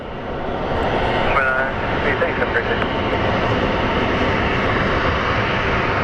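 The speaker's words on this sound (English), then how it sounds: "And we have another Southwest taxiing in" A Southwest airliner taxis at Phoenix Sky Harbor airport, a steady loud jet engine roar that fills the whole stretch, with faint voices over it.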